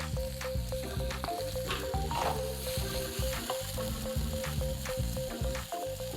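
Shallots fry in a pan for a squid and sausage dish, giving a steady, loud sizzle throughout with occasional stirring scrapes on top and no talking.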